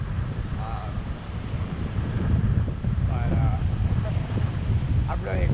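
Strong wind buffets the microphone at Condado Beach, Puerto Rico, a constant low rumble with gusts, while faint voices come and go underneath.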